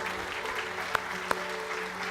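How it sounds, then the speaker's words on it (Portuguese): A church congregation claps softly in the background under a low room hum, and two sharp claps stand out close by. "Aplauda ao Senhor!"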